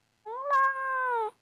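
A single drawn-out meow from a pet cat, close and clear, rising slightly then holding steady for about a second before cutting off, with no talking over it.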